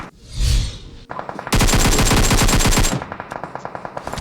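Rapid automatic gunfire in a video game, a long sustained burst of evenly spaced shots after a softer whoosh, loud and close, followed by a few slower, sparser shots trailing off.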